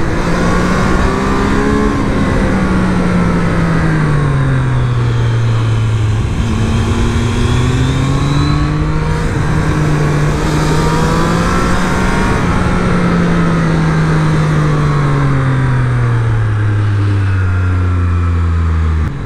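2024 Triumph Street Triple 765RS motorcycle on a ride, its engine loud and close, revving up and down through the gears in long sweeping rises and falls with no voices.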